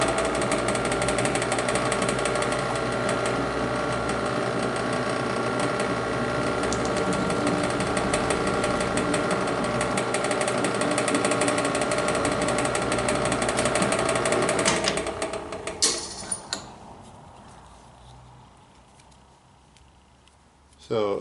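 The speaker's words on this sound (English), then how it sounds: "So we're going to drill 5/8 inch is what the outside tube diameter is." Drill boring a 5/8 inch hole for a drum stand tube, a loud, harsh, rattling grind that runs steadily for about fifteen seconds, then cuts off and winds down into quiet, with a brief burst at the very end.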